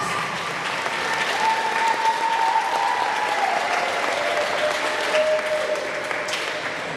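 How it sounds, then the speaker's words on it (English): A roller derby crowd applauds the non-skating officials with sustained, even clapping and a few cheers. The sound fills the arena at a steady, moderate level throughout. "we definitely want to give them a round of applause."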